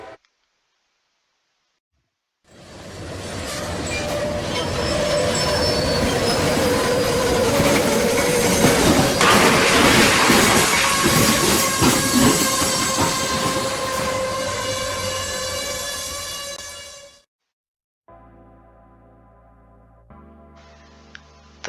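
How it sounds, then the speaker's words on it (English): A model freight train rumbles in loudly with squealing wheels and grinding metal as it brakes, building to a harsh crashing roar as it collides head-on with another train before cutting off abruptly; brief mechanical noises follow. "The mixed freight train collided head-on with the local at about 25 miles per hour"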